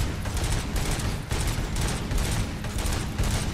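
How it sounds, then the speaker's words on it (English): The ED-209 robot in the video game Robocop Rogue City fires its guns in one long, relentless burst: rapid, loud and close, with sustained pulsing bangs from start to finish and no voices. "he is just unloading all of his ammo"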